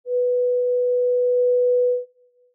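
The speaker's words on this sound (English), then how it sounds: "the sine wave, the simplest of them all" Pure synthesizer sine-wave patch from the Addivox additive synth, a single steady mid-pitched whistle-like tone held for about two seconds before cutting off, clean and alone.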